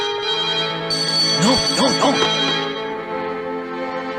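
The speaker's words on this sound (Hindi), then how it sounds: "सर फोन की घंटी।" A telephone bell rings in the background of a Hindi-dubbed South Indian action film scene, steady and fairly loud under a voice repeating a short protest.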